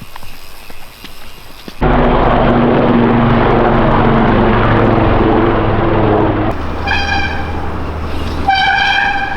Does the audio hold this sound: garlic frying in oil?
no